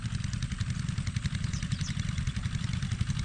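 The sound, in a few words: engines running, irrigation water pumps in rice fields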